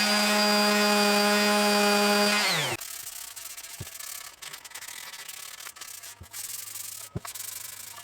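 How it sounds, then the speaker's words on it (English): A power sander works on a semi-hollow guitar body from a kit build, its motor whining loudly then spinning down, followed by scratchy rubbing and a few sharp knocks. "I've got the body pretty much sanded nice and smooth everywhere"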